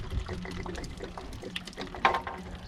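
Water drains and trickles out of a leaking RV water heater, an irregular close splashing and dribbling with a brief louder spatter near the end.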